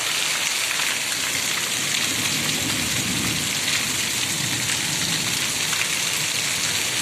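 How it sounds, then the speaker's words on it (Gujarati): Steady heavy unseasonal rain pours down without a break in a village, a dense hiss of drops with a gusty rush of wind underneath. "અત્યારે પવન સાથે વરસાદ વરસી રહ્યો છે અત્યારે"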